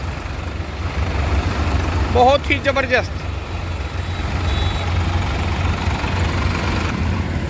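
Sonalika DI tractor engines rumbling in a tricolour Independence Day rally through a town, a steady low drone of idling and passing engines with someone talking excitedly over it.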